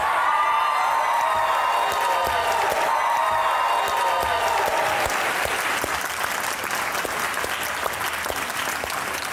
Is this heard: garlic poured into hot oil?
no